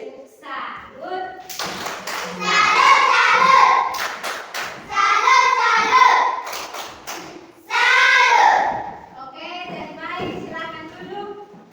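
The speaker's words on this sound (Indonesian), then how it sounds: "Kita kasih tepuk salut." Elementary school children in a classroom chant together in loud unison bursts, with sharp hand claps punctuating the rhythmic group cheer.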